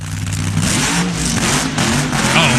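A 1996 NHRA drag racing funny car does a long burnout, its engine roaring and revving loudly and continuously throughout, with no talk.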